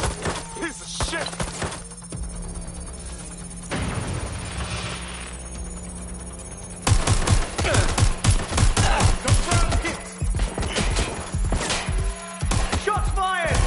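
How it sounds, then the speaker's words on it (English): Heavy gunfire in Watch Dogs, with rapid fusillades and sustained automatic bursts, loud and close, broken by a brief lull before dense volleys resume, under intermittent shouted voices. "Shots fired!"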